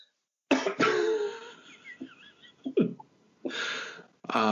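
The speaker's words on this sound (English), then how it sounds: "I'm going to go cough." A person with a cold coughs several times in harsh, close bursts separated by short pauses and breaths, with a throat-clearing rasp between them.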